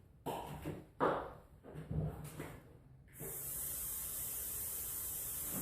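Grease sprays onto a concrete paver form as a steady, close hiss that runs for the last couple of seconds, after a few soft handling knocks and clatters.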